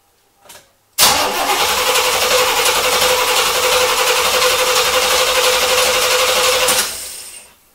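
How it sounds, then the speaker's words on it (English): A 1973 Chevrolet Corvette C3 Stingray coupe with a freshly primed carburetor cranks and starts. A loud, close, whirring engine roar kicks in abruptly, holds steady for about six seconds, then cuts off. "whenever we turn the key with the spark engaged,"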